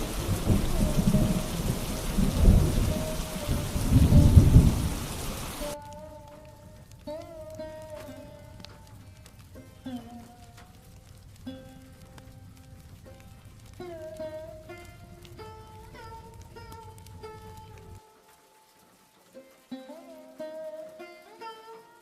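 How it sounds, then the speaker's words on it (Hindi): Heavy rain and rolling thunder in a Hindi cartoon storm, loud and dense for the first few seconds, then giving way to soft music with a faint rain bed underneath. "लगातार बारिश होते होते रात हो गई"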